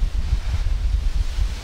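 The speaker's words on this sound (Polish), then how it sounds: "może trochę się uspokoi ten wiatr" Strong wind buffeting the microphone with a heavy, steady low rumble and gusty roar throughout.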